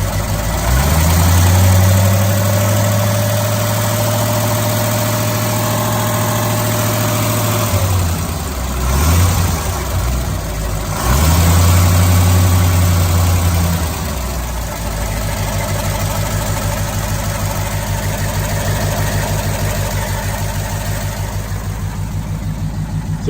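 A 1938 Ford two-door hot rod engine idles up close with a steady low rumble, revving briefly twice before settling back to an even idle for the rest of the stretch.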